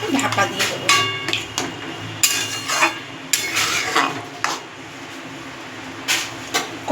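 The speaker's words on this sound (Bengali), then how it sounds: "এটা রেখে আমি ভালো করে এটাকে ঢাকা দিয়ে দেবো" A lid is set onto a cooking pot of potato-stem curry with prawns and coconut over a medium flame, giving several sharp metallic clanks and scrapes amid ongoing kitchen clatter, with no voice.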